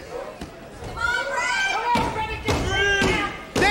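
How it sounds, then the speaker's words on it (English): A hand banging on a wrestling ring mat at a Premier Wrestling Federation event, several loud thuds in an uneven rhythm, close and heavy, with crowd noise and voices underneath. "would you bang on the mat and tell her to hurry up?"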